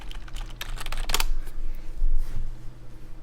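Keys on a computer keyboard clatter in quick, uneven bursts of clicks, close and moderately loud over a low steady background hum, with no speech.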